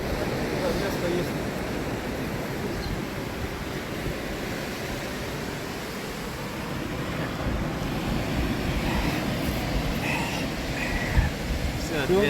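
Light ocean waves wash steadily at Taylor's Mistake Beach in New Zealand on a warm summer day, a continuous broadband surf wash with wind noise and faint voices underneath.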